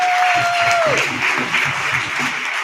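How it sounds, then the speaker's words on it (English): Applause from a crowd fills the room, steady clapping at moderate volume, with a brief falling tone at the start and voices underneath. "give yourselves a round of applause because you're amazing people today"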